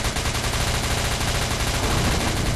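Relentless rapid-fire shooting in the video game SCP Containment Breach, a loud, near, unbroken burst of automatic gunfire heard alone without voices.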